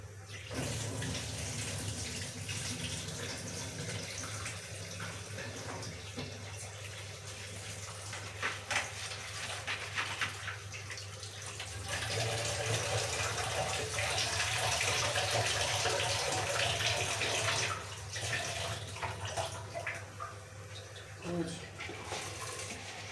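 Water runs and splashes steadily for a long stretch as it drains from soaked whole lentils, like liquid draining into a sink, with a voice speaking faintly in the background.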